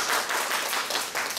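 An audience at a lecture on Daoism breaks into warm applause to welcome the professor, a dense, even patter of clapping for a short burst.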